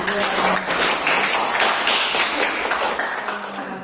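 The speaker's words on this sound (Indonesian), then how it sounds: "Tepuk tangan" Schoolchildren clap in a classroom after a student's answer, a continuous wash of overlapping handclaps filling the room, fairly loud, with faint voices underneath.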